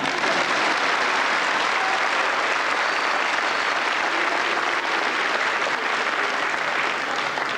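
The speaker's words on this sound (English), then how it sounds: "Peg, let's go ahead and clap for him" An audience at a school band's spring concert claps for a trombone player and band quartermaster, giving dense, loud, sustained applause that stays even throughout.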